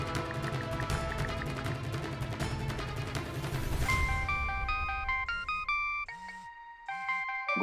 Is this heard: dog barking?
no